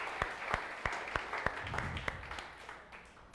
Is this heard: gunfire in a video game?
no